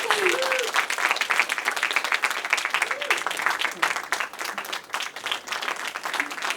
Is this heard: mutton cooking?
no